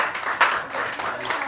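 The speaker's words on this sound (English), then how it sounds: "I'll take the applause" Short patch of audience applause during a talk on human trafficking, a thin scatter of claps with one sharper clap standing out, fairly soft and even.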